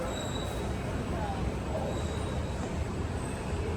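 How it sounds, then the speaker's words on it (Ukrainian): A metro station with a train moving through gives off a fairly quiet, continuous rail rumble, with faint wheel squeals rising above it now and then. "О, а це тут станція метро."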